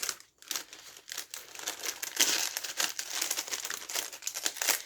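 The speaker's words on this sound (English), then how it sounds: "I'm going to do some crinkling because I want this back in the bag" Plastic bag crinkled by hand while a cross-stitch project is packed back into it, a close, continuous rustling and crackling with irregular bursts and no voices.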